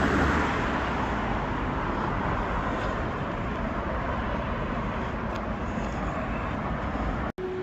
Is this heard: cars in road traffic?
yes